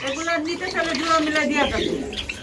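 Pigeons cooing at a pigeon and Java sparrow breeding farm, soft repeated coos and faint chirps close by, running under and between a person speaking.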